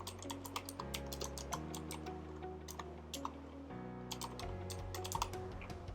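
Keys clatter on a computer keyboard as code is typed, quick irregular taps spread across the clip over a steady layer of background music.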